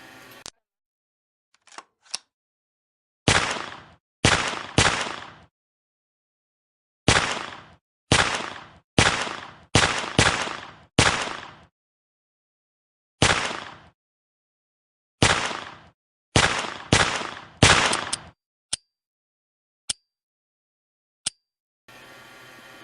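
Drozd BB gun firing, short rapid full-auto bursts separated by silent pauses, each a crisp close chatter, with a few single sharp clicks toward the end.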